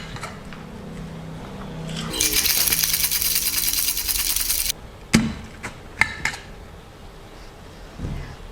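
Iced brown sugar espresso shaken hard in a cocktail shaker, a loud, dense rattle of ice lasting a couple of seconds, followed by a few sharp knocks and clinks of the shaker.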